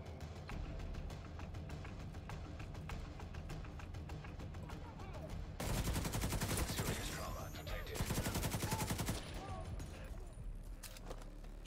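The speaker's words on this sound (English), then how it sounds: "Who the hell is shooting at me?" Rapid automatic gunfire rattles in the shooter The Division 2, fairly quiet and mixed with game noise, growing denser in two bursts near the middle, with a voice talking over it.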